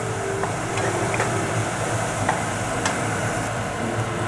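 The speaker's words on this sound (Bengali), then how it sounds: "মশলাটাকে ভালো করে কষিয়ে নেব যতক্ষণ মশলার গা থেকে তেল না ছাড়ছে" Spice paste for a Bengali tengra fish curry fries in oil, a steady soft sizzle with occasional scrapes and clinks of a spoon stirring in the pan, with no talking.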